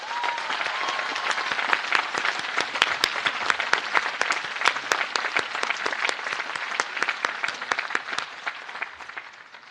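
Sustained audience applause fills a college commencement ceremony at Williams College, dense and steady clapping from a large crowd throughout, with individual sharp claps standing out over the broad wash.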